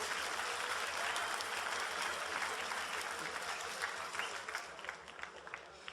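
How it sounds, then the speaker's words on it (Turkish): Audience applause at a League of Legends cosplay contest winter final, a steady dense wash of clapping from a large crowd that holds throughout and thins slightly near the end. "Tekrardan alkışlamanızı bekliyorum."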